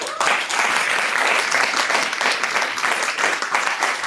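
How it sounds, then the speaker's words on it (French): A live audience claps loudly for comedian François Guédon, a dense, even round of applause that carries on without a break. "Allez, on vous applaudit bien fort"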